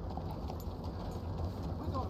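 Horse hooves clip-clop steadily at a walking pace in Red Dead Redemption 2, a continuous rhythmic patter heard under a voice talking.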